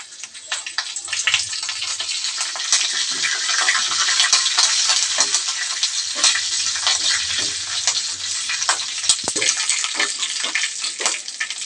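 A village-style tempering for coconut chutney sizzles loudly as curry leaves, lentils, mustard seeds, cumin and dried chillies hit hot oil. The crackling and popping is close and continuous, broken by sharp spits and stirring.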